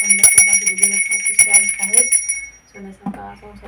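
A loose prayer bell at a Diwali home worship is struck in quick repeated strokes, its bright metallic ring sustaining before fading out, with a voice faintly nearby.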